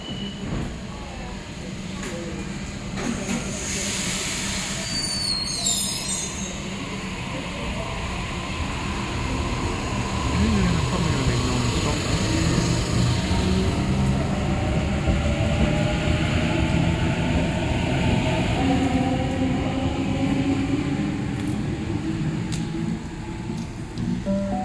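Sydney Waratah Series 2 electric train on a City Circle service, running at a station platform on a rainy day: steady rumbling rail noise and wheel hum with faint squeals, a brief high screech early on and distant voices.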